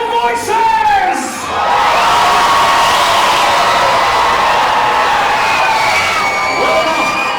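Medieval Times dinner and tournament audience erupts into loud cheering, whooping and shouting in a large indoor arena, a brief voice at the start giving way to a sustained crowd roar.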